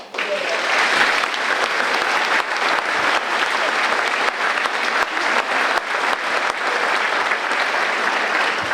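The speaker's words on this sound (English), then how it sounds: "Give yourself a round of applause" A crowd claps loudly and continuously at a middle school graduation for the 8th grade class of 2025, a dense, close ovation that holds strong throughout.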